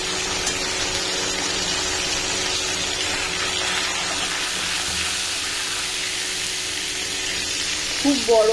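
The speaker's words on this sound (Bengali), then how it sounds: "চারা মাছ ভাজতে সময় লেগে যায়।" Small fish frying in hot oil give a steady, loud sizzle that holds for several seconds, with a brief clatter near the end.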